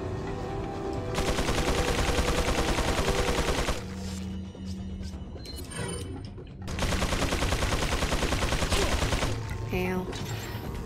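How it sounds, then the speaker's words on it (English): Point-blank shotgun fire in the video game Resident Evil 4 comes as loud, dense bursts of blasts, then a brief lull before another heavy barrage that fades toward the end, with no talking. "I can do point blank shotgun."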